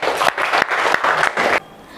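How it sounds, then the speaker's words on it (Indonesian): A class of students applauds together in a classroom before a mathematics lesson, a dense burst of clapping that holds steady for about a second and a half, then cuts off, leaving quiet room tone. "Oke, tepuk tangan untuk kita semua."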